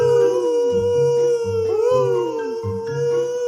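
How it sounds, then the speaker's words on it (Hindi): A pack of foxes howls in a story sound effect: several long, wavering, overlapping cries, loud and close, rising and falling in a steady chorus. "तभी कुछ लोमड़ी चिल्लाने लगा।"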